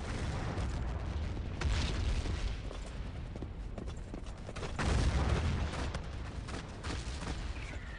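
Repeated booming blasts and crackling bursts over a dense, continuous roar of battle in the video game Battlefield 1942, on the Omaha map, with heavier thuds swelling around the middle and later.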